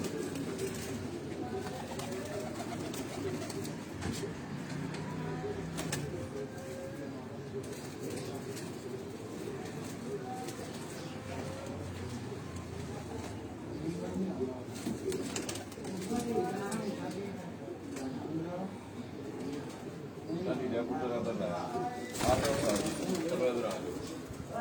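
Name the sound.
Chinese pigeons cooing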